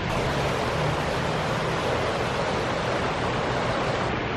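A creek flowing in a Colorado mountain town gives a steady, full rushing wash of water that stays constant and fairly close throughout, with no voices.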